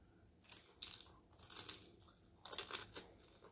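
Crispy fried fish skin is bitten and chewed close to the mic, giving a few quiet, sharp crunches in separate bursts with soft chewing between them.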